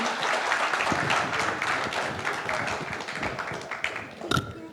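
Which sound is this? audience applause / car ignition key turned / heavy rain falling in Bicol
audience applause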